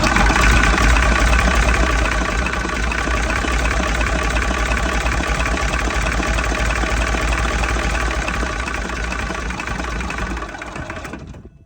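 A huge 38.8 litre V12 engine that once powered a hospital is cranked and keeps running. It makes a loud, dense, steady mechanical clatter and drone for about ten seconds, then winds down toward the end.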